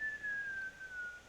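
A voice imitates a thin, steady whistle, a single sustained tone that sags slightly in pitch, heard close and fairly quiet, with no talking.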